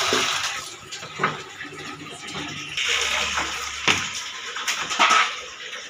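Municipal tap water runs and fills a container at home, a continuous watery rush punctuated by a few sharp knocks and clunks as the vessel shifts, with no talking.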